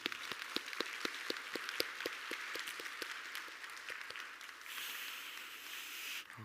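Scattered hand claps that thicken into full applause from a church congregation, then a sudden brighter burst of noise near the end.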